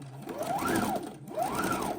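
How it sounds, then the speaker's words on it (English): A sewing machine stitching around the edge of a fabric apron, running close and loud in two sustained bursts with whirring motor pitch rising and falling, no talking. "we're sewing around the edge of our apron"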